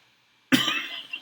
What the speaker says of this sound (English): Still have my cough.